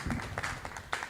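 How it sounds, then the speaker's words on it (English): Audience applause at the inauguration ceremony of an association of private vehicle testing stations: uneven clapping from a crowd, moderately loud, with scattered sharper claps and some voices mixed in. "This one deserves a louder applause."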